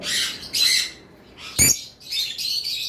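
Fischer's lovebirds, including an albino lutino, squawk and chirp close by in a series of loud, harsh bursts separated by short gaps, with one sharp squawk standing out near the middle.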